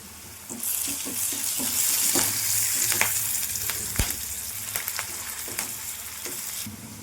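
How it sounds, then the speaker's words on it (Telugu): Turmeric, salt and curry leaves fry hard in hot oil in a pan for a bitter gourd curry, a steady loud sizzle with scattered crackles and spoon stirring clicks, no voices. "పసుపు అర స్పూను సాల్ట్ కొంచెం జోరుగా ఫ్రై చేసుకోవాలి ఒక రెప్ప కరివేపాకు"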